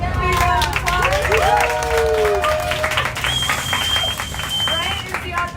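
An audience claps to welcome chef and author Bryant Terry to the stage at a market-to-table cooking demo, with scattered applause under chatter and whistles or whoops from the crowd.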